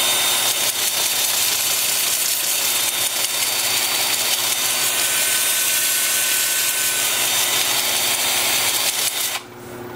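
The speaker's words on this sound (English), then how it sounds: "And then with the lathe spinning in reverse" A wood lathe spinning in reverse at about 320 rpm while turning a root ball, producing a loud, constant whirring drone with a rough, hissing texture that holds steady before dipping at the very end.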